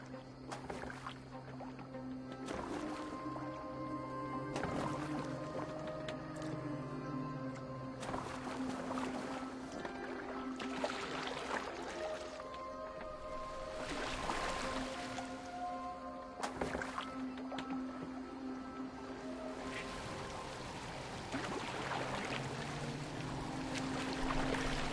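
A boat gliding across water in Assassin's Creed Valhalla, with a soft steady wash and repeated oar splashes at a gentle rhythm, a low ambient bed beneath, faint and unbroken by speech.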